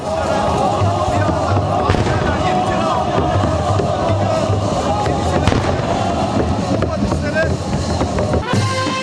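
Cannons fire during a reenactment of the Ottoman conquest of Istanbul at the Belgradkapı city walls, with repeated sharp booms and crackles over loud, dense crowd and outdoor noise and talking.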